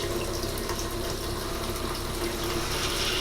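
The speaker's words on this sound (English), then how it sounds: "We're also going to flush the toilet so you see pink in there." An RV toilet in a Rockwood 2509s trailer flushes pink antifreeze into the black tank during winterizing, a steady close rush of running liquid that lasts the whole time without pause.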